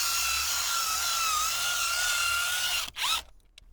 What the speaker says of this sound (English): I used my drill and my bristle.